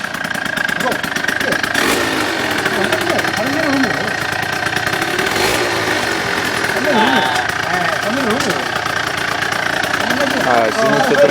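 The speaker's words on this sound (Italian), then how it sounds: "Prima accensione della Shot V2." Shot V2 engine starting up for the first time, a steady loud running drone with rough, uneven revving throughout, voices talking over it.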